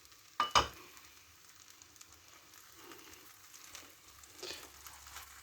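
Boiled, spiced potatoes frying in a pan for a toasted egg fry, a soft sizzle running under a sharp clatter at the start and a brief burst of hissing later on.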